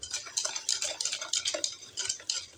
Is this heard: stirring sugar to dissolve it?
yes